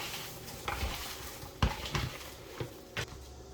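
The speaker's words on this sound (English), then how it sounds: "Mix it all in there real nice." Hands squishing and working raw ground beef for cheeseburgers in a bowl, soft wet squelches and a few sharper slaps scattered over a low background, close and fairly quiet, no voices.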